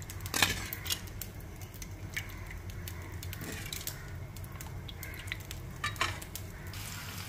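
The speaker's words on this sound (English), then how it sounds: "And now I'm frying lepo." Lepo fish fry in a pan with a soft, continuous sizzle, broken by occasional sharp clicks and scrapes of a utensil stirring and turning the pieces.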